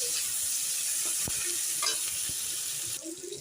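Garlic and onions with curry leaves and coriander sautéing in a pan for poondu kuzhambu, a garlic curry: a steady close sizzle throughout, with a few scraping stirs of a spoon.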